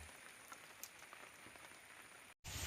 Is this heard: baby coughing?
no